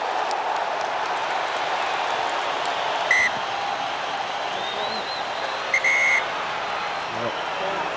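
Two short, sharp referee's whistle blasts cut through a loud, constant stadium crowd roar at a rugby match, spaced a few seconds apart.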